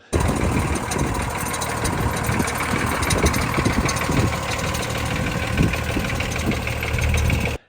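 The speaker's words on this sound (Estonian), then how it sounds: "tühikäigul koliseb ta rohkem, kui pöördeid anda, siis koliseb vähem" BMW E39 engine idling with a steady mechanical rattle and knock, loud and continuous throughout with rhythmic clattering over a low engine drone.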